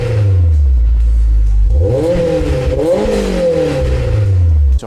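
Honda S2000 engine revving hard through an HKS exhaust, a loud close-up rising and falling rasp as the revs climb, hold and drop, with no talking.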